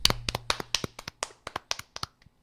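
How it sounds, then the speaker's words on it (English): A sparse round of clapping from a few people, about a dozen sharp, separate hand claps spread unevenly over a couple of seconds, close and dry, tapering off at the end. "That was the weakest round of applause ever."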